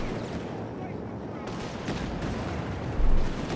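Vickers machine gun fire in Company of Heroes 3, a steady dense clatter of distant automatic bursts within a busy battle soundscape, with a heavier thump near the end and commentary voices over it.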